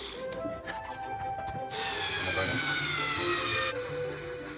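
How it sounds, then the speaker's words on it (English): A small power tool whirs steadily for several seconds, its pitch shifting as it drives in a screw, with a grinding edge throughout. "I'm going to go ahead and do this with a little power tool."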